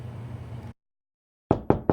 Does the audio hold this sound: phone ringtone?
no